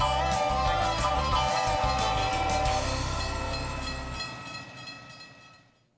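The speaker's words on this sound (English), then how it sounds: "our friend Cam was finally able to drive his train up and over the mountain" A train crossing over a mountain rumbles past with horn-like tonal blasts and rattling wheels, loud at first and then gradually fading into the distance.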